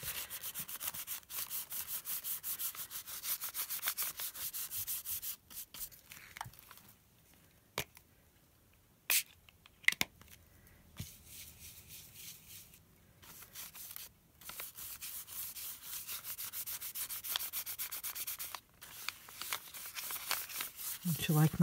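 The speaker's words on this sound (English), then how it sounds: "Smush. Smush and rub." Paint is rubbed and smeared onto a journal page with a dry, scratchy brushing that runs close up for long stretches, broken by quiet gaps and a few sharp taps.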